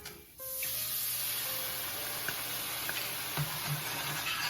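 A hot pan hisses as liquid hits it while deglazing for beef stroganoff, a sudden loud sizzle that then settles into a steady hiss with small pops and crackles.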